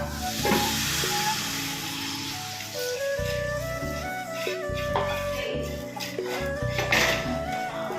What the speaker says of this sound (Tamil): இப்போ குழம்பு நல்லா கொதிக்குது